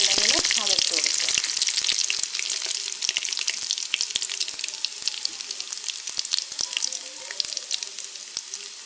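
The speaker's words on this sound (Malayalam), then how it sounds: "അപ്പോൾ കടുകൊക്കെ പൊട്ടി വെക്കാം." Mustard seeds splutter in hot oil with shallots for a Kerala jackfruit erissery tempering: a dense, steady sizzle with sharp crackling pops scattered throughout, close and fairly loud, with no voices.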